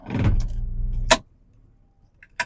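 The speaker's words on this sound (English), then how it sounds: "you'll hear me coming in and out of neutral" A ski boat's low engine rumble runs for about a second, then cuts to near quiet, with a couple of brief clunks as the drive shifts in and out of neutral.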